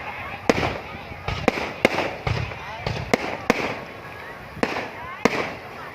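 New Year's Eve fireworks over Năm Căn district in Cà Mau province burst loudly in a steady run of sharp bangs and crackles, with a crowd's chatter running underneath.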